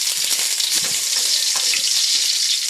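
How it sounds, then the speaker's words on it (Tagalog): Garlic fries in hot oil in a pan, a steady, bright, close sizzle that holds evenly throughout with faint crackles and no talking. "Magprito muna tayo ng ating ingredients. Sibuyas, bawang at saka kamatis. Unahin muna natin yung bawang."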